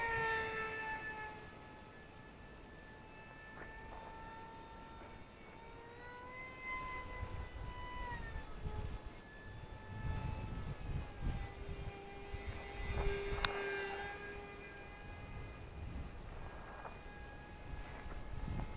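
A small Glue & Fly F-22 Raptor nano RC plane flies outdoors in wind, giving a thin, high electric motor whine that rises and falls in pitch as it passes, with wind rumble underneath.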